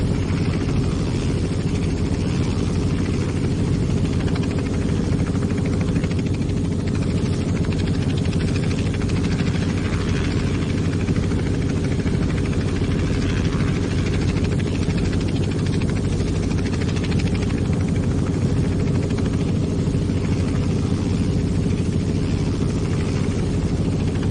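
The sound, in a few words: Robinson R44 helicopter engine in video game X-Plane 11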